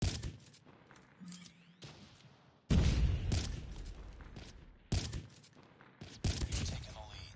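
Gunfire in Call of Duty Mobile, with loud bursts of shots and sharp cracks in separate clusters, set against quieter game sounds and a short electronic tone.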